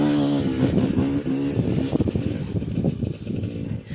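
Dirt bikes riding across sand dunes, engines droning steadily with revving swells and a throaty low rumble, fairly close and loud throughout, fading slightly toward the end.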